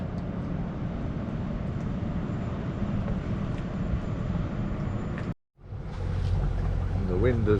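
A motor boat cruises on engine power through narrow fjord waters toward a bridge, a steady low drone with broadband rumble throughout, briefly cut off near the end before resuming with splashing water.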